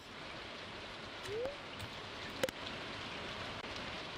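Steady soft rain in the farming game Stardew Valley, a continuous even hiss with a couple of brief game sound effects on top, no talking.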